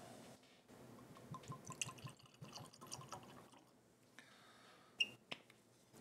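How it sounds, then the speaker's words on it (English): Ardbeg Uigeadail Scotch whisky poured into a glass, a soft, close liquid gurgle and splash followed by a few faint clinks and drips. "Let's pour it and see what we get."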